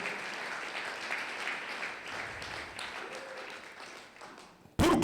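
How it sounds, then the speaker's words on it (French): A church congregation applauds at a Sunday worship service, a sustained wash of clapping and cheering that fades slightly before a sudden loud burst at the very end. "Est-ce que tu peux acclamer très fort pour Jésus?"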